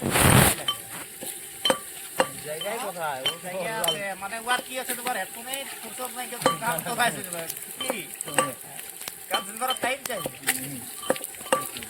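Onions frying in hot oil in a pan at an outdoor picnic cook-up, steady sizzle broken by sharp metallic clinks and scrapes of a ladle stirring, with voices talking in the background.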